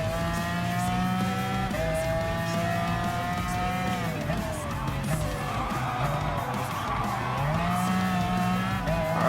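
A Renault Sport RS01 GT3 race car in Gran Turismo Sport at Autopolis, its engine droning loudly and steadily with rising and falling pitch through gear shifts and corners, with some tire noise.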